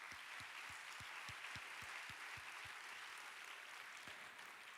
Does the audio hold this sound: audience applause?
yes